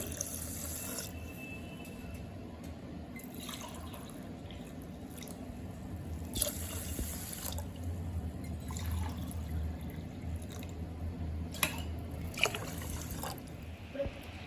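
Water is poured from a glass onto washed rice in a pot, a soft, steady pouring trickle with occasional splashes and light clinks close by.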